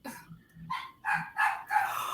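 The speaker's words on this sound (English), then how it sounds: "And then now my dog is barking." Dog barking indoors in a series of about five short, fairly loud barks, growing more insistent toward the end, with no talk over them.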